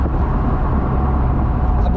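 A Chevrolet C6 Corvette Grand Sport Convertible with stock exhaust accelerates hard, a steady, loud engine roar with wind noise, no voices.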